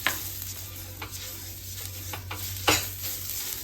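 Oil is rubbed across a hot tawa with a halved onion before rava dosa batter goes on, giving a steady close sizzle with a few scraping strokes and one louder hiss near the end.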